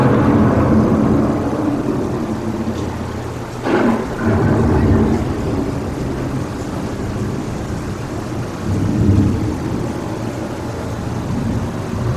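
Simulated thunderstorm on the Living with the Land ride at EPCOT, Walt Disney World: steady loud rain hiss with a deep rolling thunder crack partway through, then continuous rumbling downpour.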